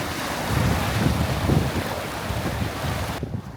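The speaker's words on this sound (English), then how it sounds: "It simply ends in the roar of the sea." Sea surf roaring steadily at the shore near the end of the Great Wall at Shanhaiguan, a broad continuous wash with gusty wind buffeting the microphone, ending abruptly.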